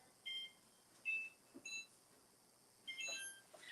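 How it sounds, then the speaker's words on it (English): A kitchen timer being set for ten minutes gives several short, faint electronic beeps in quick, uneven bursts, with soft room noise between them. "let me set the timer for 10 minutes because I will forget"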